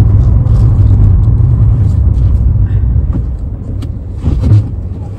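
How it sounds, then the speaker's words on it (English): A car engine rumbles low and steady while reversing, heard from inside the vehicle, with faint bumps and shifts near the end. "Oh God, I'm going to reverse now."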